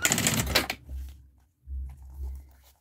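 A sewing machine runs in two bursts of stitching along a zipper seam for a sublimated necessaire box, with a short scratchy handling noise first and a low motor hum under each run.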